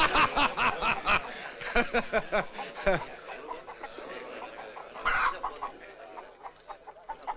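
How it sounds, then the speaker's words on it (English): Hens cluck and squawk in short bursts near at hand, with a voice talking intermittently among the calls. "They are chickens, amigos. Chickens, hens, producers of eggs."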